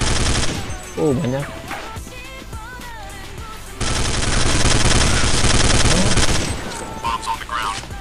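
Counter-Strike gameplay gunfire: sustained bursts of close automatic fire and volleys of shots with brief pauses, while someone talks and game radio chatter plays over it.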